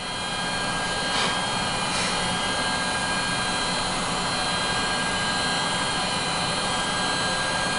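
Two 10,000 RPM hard drives spin inside an IBM eServer xSeries 220, a steady, loud whine with fan-like whoosh and a high constant tone, broken by a couple of brief swells near the start.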